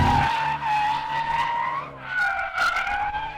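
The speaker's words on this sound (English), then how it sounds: "But give it a bit of a flick and it doesn't mind a skid at all." A Ford Mustang 2.3 skids on a race track, its tires giving a loud, close, wavering squeal that rises and falls through two long slides.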